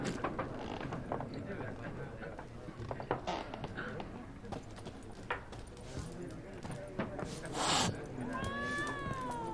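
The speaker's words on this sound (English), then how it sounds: "What's the matter, cat?" A cat meows in The Witcher 3 amid a busy game scene, several short mewing calls over clattering hoof-like knocks and mechanical noises, with voices talking around them at moderate loudness.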